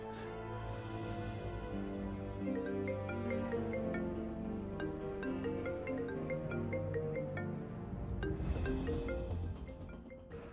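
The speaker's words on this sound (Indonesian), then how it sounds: "saya harus angkat telepon ini di luar." A mobile phone rings at night with a loud, steady melodic ringtone that plays continuously for about ten seconds, ending with a brief rustle.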